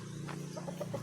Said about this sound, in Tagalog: Yan po ating mga manok.